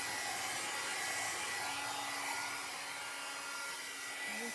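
A heat gun drying an old canvas decor piece, a loud continuous blowing whir held steadily close by with no voices.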